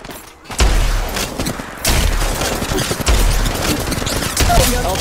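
Rapid gunfire from the Apex Legends Mobile game, with automatic bursts and heavy low booms repeating every second or so, loud and close amid game effects.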